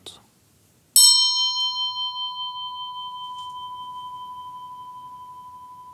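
A single strike on a small shrine bell, a bright ding that rings with a pure sustained tone and slowly fades over several seconds in a quiet room after a brief soft sound.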